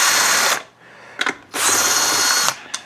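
Cordless power drill backing Phillips screws out of an Electrolux bagless canister vacuum, EL4300B, during a repair: two loud, close whirring bursts separated by a short pause with a few clicks.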